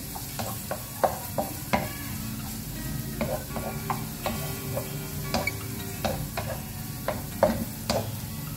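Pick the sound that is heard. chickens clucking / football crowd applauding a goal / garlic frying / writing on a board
garlic frying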